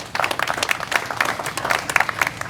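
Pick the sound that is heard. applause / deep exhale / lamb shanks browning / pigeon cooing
applause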